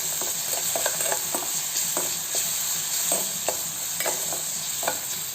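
Tender tamarind leaves frying with curry leaves in oil, a bright steady sizzle with crisp, evenly spaced taps of a spoon stirring the pan, close and alone without speech.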